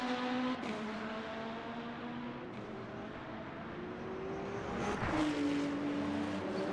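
Ferrari race cars in the Le Mans Ultimate sim racing game, engines droning with steady harmonic whine, pitch dropping on upshifts and rising again, a louder pass near the end.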